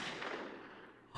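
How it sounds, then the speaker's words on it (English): A gunshot in the video game Steam Prison, heard as a single booming report that rolls away in a fading tail, faint and alone. "Another gunshot and then another, extinguishing my hopes."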